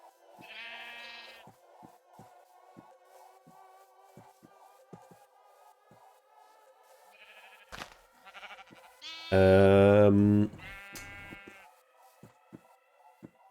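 Sheep in the Minecraft video game bleat several times, short quiet calls over light rain and clicks, with one much louder, longer bleat near the end.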